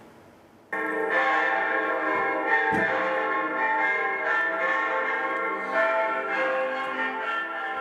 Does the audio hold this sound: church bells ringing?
yes